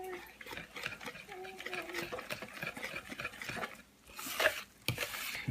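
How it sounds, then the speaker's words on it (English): A whisk scrapes and clinks around a bowl of pancake batter in a steady quiet rhythm, mostly underneath a person talking, with a couple of brighter knocks near the end. "So I have my whisk and my bowl, and I'm stirring."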